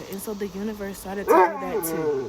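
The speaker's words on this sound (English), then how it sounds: "Excuse my dog." A dog whimpers and yips in short bursts beneath someone talking, close and emotional, overlapping her speech throughout.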